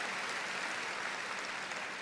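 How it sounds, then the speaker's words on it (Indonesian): A church congregation applauds during a sermon, a brief, fairly faint burst of steady clapping from many people. "Beri tepuk tangan yang meriah betul."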